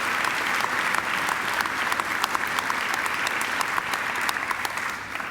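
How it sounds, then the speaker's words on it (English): Sustained applause from a large audience fills a university graduation ceremony hall, dense and even with crisp individual claps standing out, continuing steadily without speech. "I think Rebecca deserves another great round of applause."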